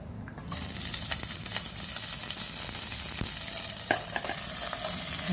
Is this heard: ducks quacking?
no